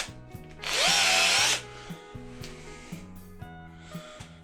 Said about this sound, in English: So we start off with the correct drill bit.